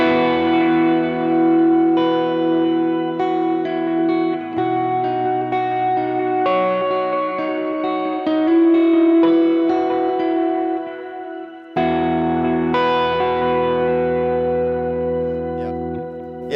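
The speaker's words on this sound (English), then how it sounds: "With the shimmer set right at the background because once again I don't want it to be too much in front, just to give it that ambient feel to it." Electric guitar played through a shimmer reverb pedal, mixed far back for an ambient worship tone, ringing out sustained chords and single notes with long, bright, octave-tinged tails that swell and overlap continuously, with no talking.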